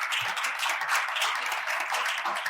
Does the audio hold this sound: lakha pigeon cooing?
no